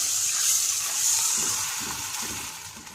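Dosa batter poured into a hot pan on a low flame gives a steady close-up sizzle and hiss, with soft stirring-like scraping in the lower range, and no voices.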